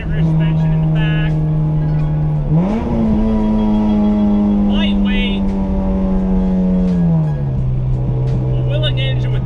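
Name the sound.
B18C-swapped EG Honda Civic engine revving while driving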